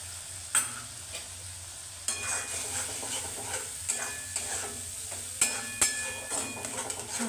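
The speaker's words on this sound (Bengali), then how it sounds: "মশলাগুলোকে ভালো করে কষিয়ে নেব" Spice paste for matar paneer frying in a pan: quiet, soft sizzling broken by several sharp spoon scrapes and clacks as it is stirred at irregular intervals.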